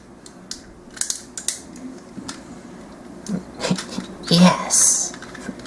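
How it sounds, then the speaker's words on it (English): Ratchet joints on a Super Gobots Baron Von Joy toy being worked, giving sharp plastic clicks and snaps scattered irregularly, close up, with a short burst of rustling handling noise toward the end. "The ratchets are pretty tight."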